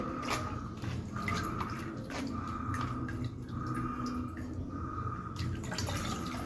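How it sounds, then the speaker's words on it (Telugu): Strained tamarind juice poured into cooked dal for drumstick sambar, a soft steady trickle with small drips running right through at close range, with no talk. "పిసికిన చింతపండు వడబోసుకోవాలి ఈ పప్పులో ఉడకబెట్టిన పప్పులో పోసుకొని"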